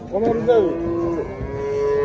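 A calf or cow at a livestock bazaar in Karakol gives a loud, close drawn-out moo lasting over a second, with faint market murmur behind it.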